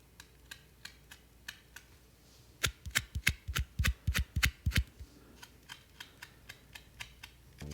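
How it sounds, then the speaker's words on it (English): A fingertip runs across the seam between the two plastic halves of a counterfeit Game Boy Advance cartridge, giving a close series of sharp ticks that build into a denser, louder cluster in the middle before thinning out. "you can really hear it when you run your finger over it."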